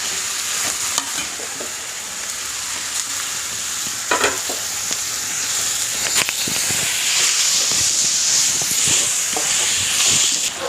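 Tomatoes and green chillies frying in a pan with a steady, loud sizzle and hiss, with occasional stirring scrapes and clicks throughout.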